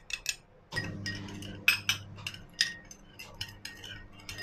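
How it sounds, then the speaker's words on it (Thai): A spoon stirring sugar and lime juice in a mixing bowl, sending out repeated bright clinks and scrapes against the bowl in an uneven rhythm, close and clear with no talking. "คนน้ำตาลกับน้ำมะนาวให้ละลายนะคะ"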